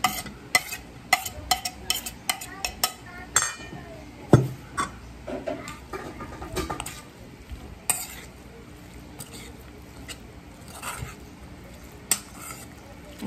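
Lumpiang shanghai filling with carrots and celery being stirred and mixed in a bowl, giving a string of close, irregular clicks, scrapes and soft wet knocks.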